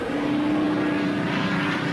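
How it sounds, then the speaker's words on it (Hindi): A cartoon airplane passing overhead makes a steady, moderately loud propeller-engine drone that holds evenly throughout, with no voices. "पापा, मुझे किसी जहाज की आवाज सुनाई दे रही है।"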